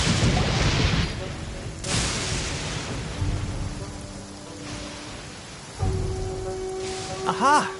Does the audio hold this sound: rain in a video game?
yes